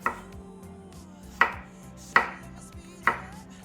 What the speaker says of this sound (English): Chopped up our juicy tomatoes